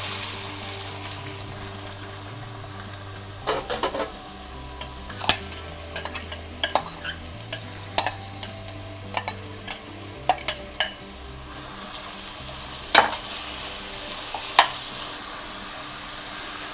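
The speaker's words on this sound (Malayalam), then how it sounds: "ചൂടായ എണ്ണയിലോട്ട് സവാള ചേർക്കുകയാണ്." Sliced onions dropped into hot oil for a basic North Indian curry gravy, with a steady low sizzle and a dozen or so sharp clicks of a spoon scraping and stirring the pan, close and alone without talk.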